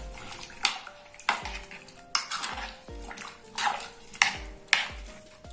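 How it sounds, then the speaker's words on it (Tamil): A metal spoon scrapes and clinks around a pot of sambar made with coconut milk in repeated stirring strokes, close and clear, with no talking. "இப்போ இதை நான் நல்லா கலந்து விட்டுறேன்"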